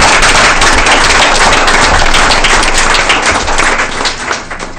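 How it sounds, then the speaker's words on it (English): Loud, dense applause fills a school board meeting as the audience claps for staff being transferred and promoted, holding steady before thinning out toward the end. "let's have another round of applause for you"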